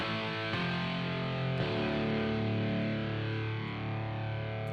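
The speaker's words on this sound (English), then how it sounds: "With distortion, we've got this diesel setting." Sustained synth chords pass through the diesel distortion setting of the Big Hands plugin by Tomahawk Sounds, giving a gritty, buzzing, saturated tone with two chord changes and no talking.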